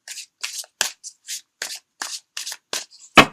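A deck of tarot cards is shuffled by hand in a series of short papery riffles and slides, about a dozen bursts with brief pauses between them, close and crisp, ending with one louder snap, and no talking.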